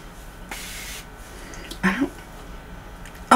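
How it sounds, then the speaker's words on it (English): A hair detangler spray goes onto hair in a single close, bright hiss lasting about half a second. A brief rustle follows in an otherwise quiet room. "So I'm just going to spray it all over, and then I'm going to comb my hair"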